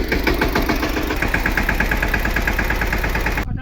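A tractor engine chugs steadily nearby with a rapid low knocking rhythm, loud and continuous until it cuts off abruptly at the end.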